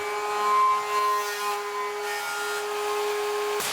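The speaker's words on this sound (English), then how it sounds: "To imitate a computer drive, Adam and Jamie set up a high-speed run with a CD mounted in its plastic tray" A CD spinning at very high speed, around 25,000 RPM, in a drive's plastic tray, producing a steady high-pitched whine with whirring tones that ends abruptly near the close.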